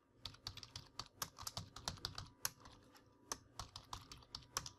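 Fingers typing an insert query on a computer keyboard, a quiet, fairly steady patter of separate keystrokes with occasional harder taps, close by and with no talking.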